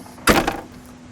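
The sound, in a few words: door of a 1969 Ford Mustang Boss opening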